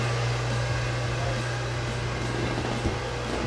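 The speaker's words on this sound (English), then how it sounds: "The noise you hear is the air conditioning booster pump running." A steady mechanical hum from an air conditioning booster pump running aboard a Sirena 58 Coupe yacht, with a strong low tone and constant broadband noise, close by and unbroken.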